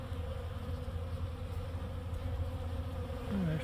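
Carniolan and Buckfast honey bees hum in a steady, dense drone around the hive, a close and continuous buzz with no voices.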